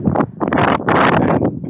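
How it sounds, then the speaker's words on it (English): Strong gusting wind buffets a microphone outdoors during a wind advisory, loud irregular rumbling blasts in quick bursts with brief lulls between them. "We are under a wind advisory."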